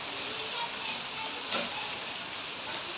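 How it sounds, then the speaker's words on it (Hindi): Heavy rain in Bangalore, a soft, continuous hiss with a few faint drops and spatters, heard fairly quietly and without any nearby talking. "पागल करदे ये वर्षा"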